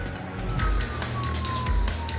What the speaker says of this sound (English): also travelling on blue lights and sirens